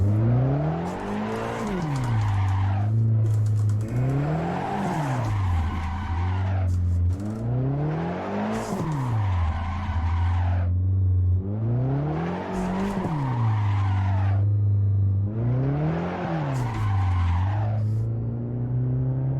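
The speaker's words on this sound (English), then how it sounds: "And it's all down to throttle control drifting" A car drifts in Assetto Corsa, its engine surging and dropping in a steady repeating cycle while the tires squeal loudly through each slide, about five drift passes with no pauses and no talk.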